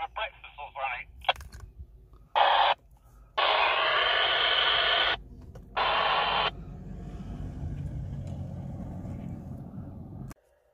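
Bursts of crackly, band-limited CB/PMR radio chatter cut in and out over the low rumble of an idling car engine.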